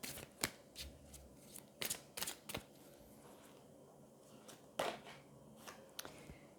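A deck of angel oracle cards being shuffled before one is drawn, giving a quiet run of soft riffling flicks and taps with small pauses between bursts, close by and with no talking.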